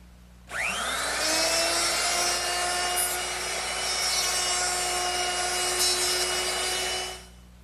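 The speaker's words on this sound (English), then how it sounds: "I'm just going to use my router, which I've set up with a 1/2-inch mortising bit," A router fitted with a 1/2-inch mortising bit spins up and cuts steadily through wood for about seven seconds, a loud continuous whine with a rising start and a tapering finish, no talking.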